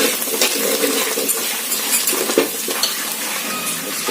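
Moong dal being stirred in a pan, with a steady scraping, clinking stir and light sizzle running continuously at close range, no voices.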